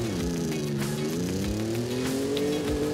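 A truck in the racing game Forza Horizon 5 drives with a loud, continuous engine drone whose pitch climbs and dips as it revs and shifts.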